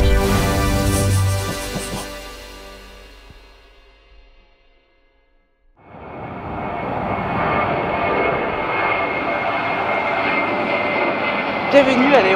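A fixed-wing airplane at Orly airport roars with engine noise that fades almost to silence, then swells back into a loud, steady jet-like rush that continues to the end.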